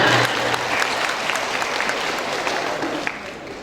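Sustained applause from an audience at an Indonesian Ramadan aid distribution event for Quran teachers and the poor, a dense steady wash of clapping filling the room, loud and continuous throughout.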